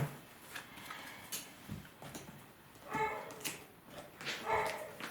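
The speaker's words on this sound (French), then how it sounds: "si vous entendez mon chien" Short, faint dog barks and yips come in scattered bursts over a quiet indoor background, with no talking.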